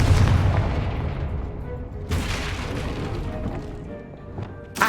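A Confringo spell explosion in the Hogwarts Legacy video game bursts in with a loud boom, followed by a rumbling tail and a second sharp blast midway, with game effects continuing underneath.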